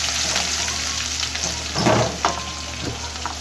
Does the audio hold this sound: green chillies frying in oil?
yes